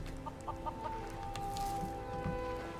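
Several short clucks from chickens in Skyrim sound over a steady synthetic background, spaced irregularly and fairly quiet.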